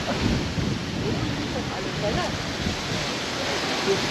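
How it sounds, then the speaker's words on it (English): Strong wind gusting across the harbour at Port de Sóller, Mallorca, a steady loud roar of buffeting air and microphone rumble with no break, like blustery weather by the water. "I don't think the wind knows which direction it's blowing from at the moment"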